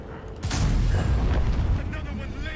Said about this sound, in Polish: I może jeszcze w tego Jocha jeden strzał nam się uda oddać.